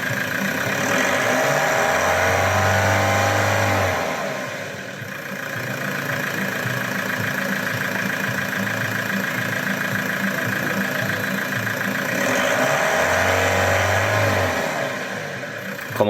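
A car idles steadily up close while its alternator is checked. The engine is revved up twice in slow swells, each time settling back to an even idle.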